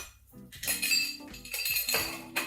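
Ice cubes clink and rattle into a metal cocktail mixer while a gin martini is prepared, several sharp bright knocks and jostling clatters in quick succession, close and crisp.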